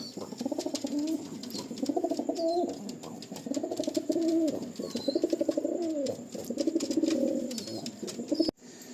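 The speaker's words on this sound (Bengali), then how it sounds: "এই একটা আলিম চেন্নাই লাইনের ফুলসিরা পায়রা আছে, এটা ওল্ড জেনারেশনের ফুলসিরা পায়রা।" Old-generation Fulsira pigeons of the Chennai line coo repeatedly in a loft, with rhythmic, fairly close throaty calls recurring every second or so, and faint clicks and soft chirps between them.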